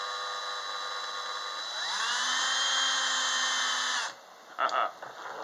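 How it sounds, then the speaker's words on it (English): A small power drill fitted with a tiny bit spins up for a hole in a 1948 Ford wiper transmission part, a steady high whine that cuts off abruptly, followed by a few faint clinks. "a little tiny drill bit, and I'm going to try to drill a hole in it"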